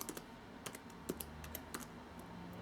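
Someone types a command on a computer keyboard, a faint, irregular patter of individual key clicks in small bursts, close by and alone.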